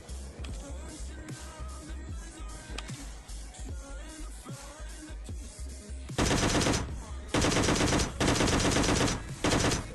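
Gunfire in the mobile battle royale PUBG Mobile Lite, with scattered shots and a short burst giving way to loud, dense automatic fire from a DP-28 or Thompson. The later bursts come up close and dominate.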